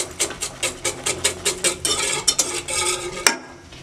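A spoon stirring milk with sugar and milk powder in a pan over a medium flame for mango kulfi, giving quick rhythmic scraping strokes, close and fairly loud, with a faint sizzle underneath.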